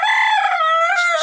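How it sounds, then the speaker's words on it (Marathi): A rooster crows once, loud and close, a single drawn-out cock-a-doodle-doo with a falling tail, and nothing else is heard. "हा बघा हा तो कोंबडा आहे"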